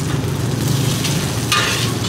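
Rice flour cakes frying in an old cast iron pan at a street food stall, giving a loud, steady sizzle and crackle that continues throughout, with no voices.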